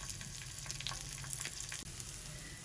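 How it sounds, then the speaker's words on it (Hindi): Raisins frying in a spoonful of ghee for zarda, a soft steady sizzle with faint crackles, close but fairly quiet and unbroken. "ये मेरे पास 50 ग्राम किशमिश है, मैंने साफ करके रखी है। ये फ्राई करेंगे।"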